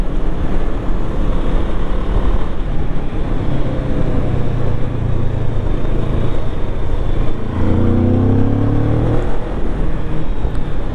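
Moto Morini Calibro motorcycle ridden hard, a loud, continuous engine roar with wind rush, the pitch rising and falling as the throttle opens and shifts through the revs.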